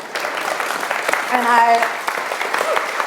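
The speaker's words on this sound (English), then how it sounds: "my shameless plug for an applause" A small gathering gives brief, scattered applause during a talk about the Coast Miwok, light clapping mixed with a voice speaking over it.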